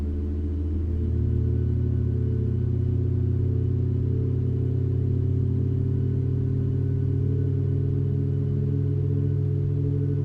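A Boeing 737 MAX 8 engine spools up during startup in the iFly flight simulator, a loud steady rumbling whine that rises within the first second and then holds as a constant drone.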